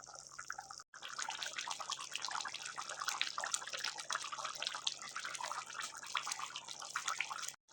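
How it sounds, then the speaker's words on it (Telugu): Tamarind broth for fish curry bubbles in a pot, a steady close crackle of popping bubbles and drips running unbroken with no talk. "మనకి పులుసు అనేది ఇలా మరిగించుకోవాలి."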